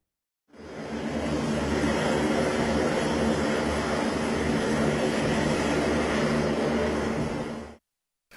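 A special plane carrying the bodies of attack victims roars steadily and loudly, with a broad, sustained engine drone that rises in, holds for several seconds, then cuts off.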